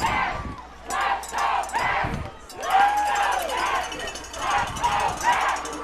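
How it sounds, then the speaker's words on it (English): At a high school football game, a loud crowd roars and cheers in the stands, swelling and falling in waves beneath an announcer talking over the noise. "Oh my, this crowd is so loud here."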